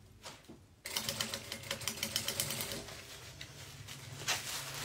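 After a short pause, a sewing machine starts topstitching fabric, its needle hammering in a fast, steady rhythmic chatter close by, running continuously to the end.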